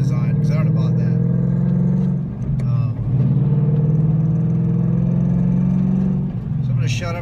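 A Ford Mustang GT with a Stainless Works catback exhaust drives along with a deep, loud, steady exhaust rumble that dips briefly between gear changes and then pulls again, heard from inside the car.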